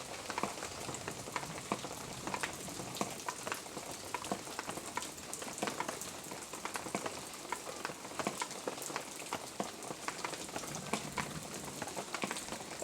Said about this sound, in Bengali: দেখো আমার তরকারি কিন্তু ফুট চলে এসেছে।